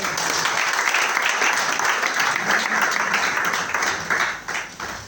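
A church congregation applauds the word of the Lord, a dense, steady wash of clapping that holds for about five seconds and thins slightly near the end.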